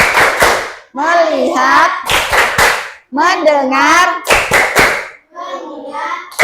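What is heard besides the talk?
classroom rhythmic clapping ice-breaker game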